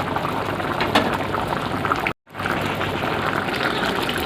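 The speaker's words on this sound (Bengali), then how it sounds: "একটু সেদ্ধ করে নেবো" Snakehead fish curry with mango bubbles in a pan with a close, steady boiling burble and liquid churn, broken by a brief cut to silence midway.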